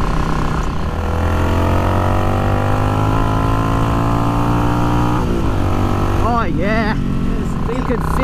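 A Yamaha XVS motorcycle fitted with a Dynatek 3000 performance ignition, its engine holding a steady drone that climbs in pitch as it revs, then drops and rises again in quick throttle blips, loud and close.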